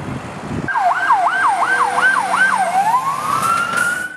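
An ambulance siren sounds while carrying wounded soldiers in Doğubayazıt, Turkey. It is loud and near, with rapid repeated yelping wails that give way to a long rising sweep, and no voices over it.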